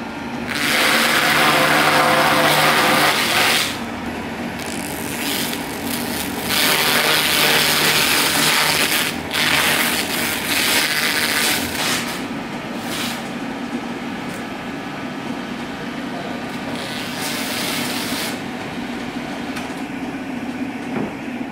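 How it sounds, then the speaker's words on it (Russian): A sanding machine runs steadily, finishing the tanning of sheepskins in a workshop in Bukhara, with a loud, continuous mechanical whir and grinding that swells and eases over about twenty seconds. "Завершается дубление на шлифовальном станке."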